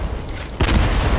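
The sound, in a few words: mortars firing and exploding in a video game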